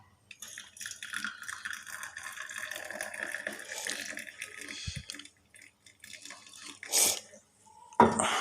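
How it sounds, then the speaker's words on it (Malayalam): Black tea poured from a pot into a glass, a steady trickling stream with drips, quiet and close, broken by a short pause and a few clinks near the end. "ഇങ്ങനെ ഗ്ലാസ്സിൽ ഇങ്ങനെ ഒഴിക്കുകയാണ്"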